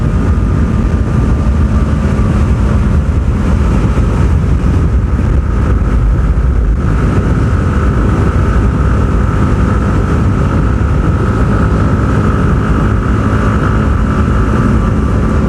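A Yamaha R15 V4 motorcycle runs flat out near 140 km/h, its engine a loud, continuous drone mixed with heavy rushing wind noise throughout.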